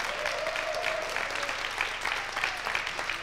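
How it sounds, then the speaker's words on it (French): Steady applause from a small crowd, continuous clapping throughout at moderate volume. "Je crois qu'on peut les applaudir."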